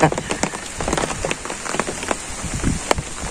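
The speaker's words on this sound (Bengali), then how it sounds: "তো বৃষ্টি পড়তেছেই, বাতাস আছে সাথে" Steady rain pattering on surfaces in a Bangladeshi village, driven by wind, with scattered nearer drops and splashes standing out over a dense continuous wash; no talking.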